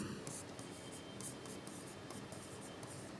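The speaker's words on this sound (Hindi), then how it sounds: "जैसे अगर उदाहरण लिखेंगे तो मैं लिखूं, राम ने" Pen or pencil writing out a Hindi grammar example by hand, a steady close scratching that runs continuously for a few seconds with no talking.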